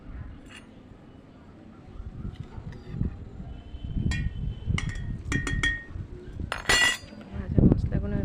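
Dried whole roasted spices for a mango oil pickle are crushed on a stone grinding slab, with irregular knocks, clinks and gritty scrapes that grow busier toward the end, close by and moderately loud.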